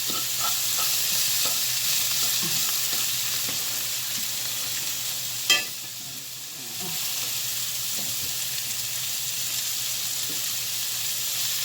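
Onions sautéing in a pan give a loud, continuous sizzle with frequent stirring scrapes and a single sharp knock midway, no voices.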